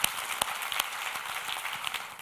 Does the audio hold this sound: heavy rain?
no